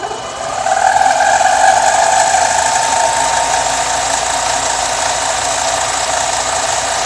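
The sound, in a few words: lathe running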